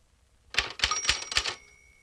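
Manual typewriter keys struck in a quick burst of about five sharp, close clacks during a 1960s touch-typing drill, with a faint bell-like ring trailing over the strikes and quiet before and after.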